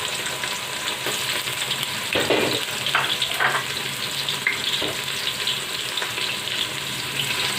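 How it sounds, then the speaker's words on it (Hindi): Onions frying in hot oil with spices for beef nihari, a steady bright sizzle throughout with occasional stirring scrapes, close and even. "प्याज को हमें अच्छी तरह का फ्राई करना है।"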